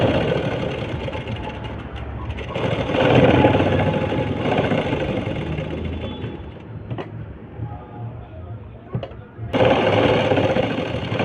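Sewing machine stitching a dress shoulder seam, a steady close mechanical whirr running continuously for several seconds before briefly slowing and then resuming.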